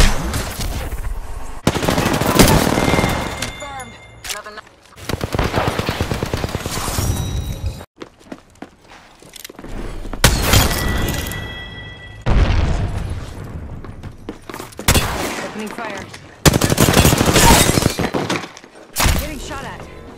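Gunfire in Apex Legends, loud rapid automatic bursts and booming impacts with shattering sounds, coming in repeated volleys separated by brief lulls, mixed with game voice lines.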